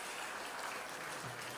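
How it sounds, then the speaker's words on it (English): Audience applause at a gala dinner, a dense wash of many hands clapping steadily at moderate distance for the whole stretch, with no talk over it. "So really give yourselves a round of applause for coming out."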